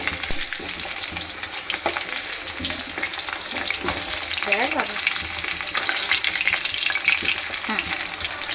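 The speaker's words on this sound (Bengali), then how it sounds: "আলুগুলো ভাজা হচ্ছে" Loud, steady sizzling of potatoes frying in hot oil, with occasional stirring scrapes and clinks.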